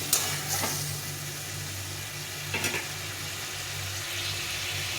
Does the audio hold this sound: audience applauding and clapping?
no